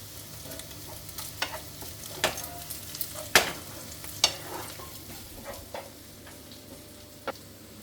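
Soft steady sizzling of lightly fried onion with ginger paste in a pan, with occasional scraping stirs and sharp clicks of a utensil against the pan.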